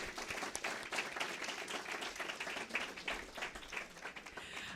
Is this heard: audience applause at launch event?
yes